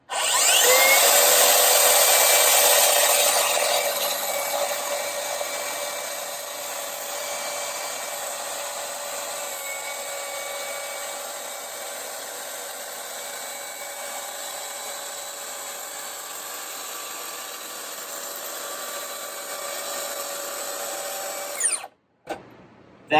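A Makita track saw rips a strip of plywood: a loud, steady high motor whine with cutting noise that peaks at the start, then runs on evenly for about twenty seconds before spinning down to silence.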